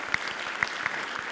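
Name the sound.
applause at an association general assembly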